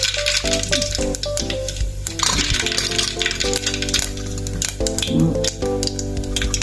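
Mustard seeds tossed into hot oil for sambar, crackling and popping in quick, irregular bursts close by, over a steady background hum with no talking.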